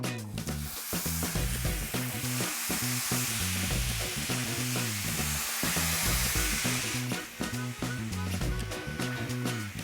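Chicken kebab skewers sizzle loudly on a hot griddle pan, a dense, continuous frying hiss with bursts of spatter and a low background hum, no talk.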